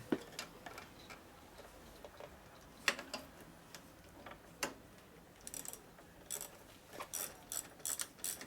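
A ratchet tightens a bolt on a 2001 Gilroy Indian motorcycle being rebuilt as a race bike, giving close, dry clicking in short bursts separated by quiet gaps.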